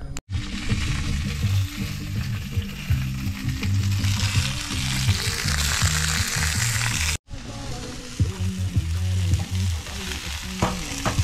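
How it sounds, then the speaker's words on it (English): Pork sausages sizzle and crackle steadily in a hot pan, a loud continuous frying hiss with a brief break partway through. "we'll get these sizzling and probably have a sausage sizzle."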